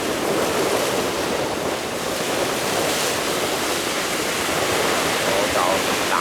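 Ocean waves crash against a speeding boat, a loud continuous broadband roar of surf and spray with wind buffeting the microphone throughout.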